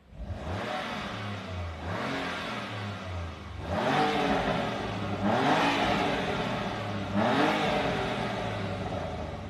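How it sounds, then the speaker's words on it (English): Exhaust of a 2020 BMW M4 Competition Convertible revved repeatedly while parked, with four or five rising engine sweeps in a steady rhythm, loud and close. "when you're listening to the car, just note the exhaust tips because it sounds lovely"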